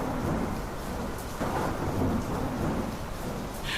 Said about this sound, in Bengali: পৃথিবী তখন ঝড় বৃষ্টিতে ভেসে যাচ্ছে